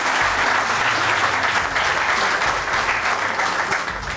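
A crowd at an Eid mushaira poetry recital gives loud, sustained applause, a dense unbroken wash of clapping that holds strong from start to finish.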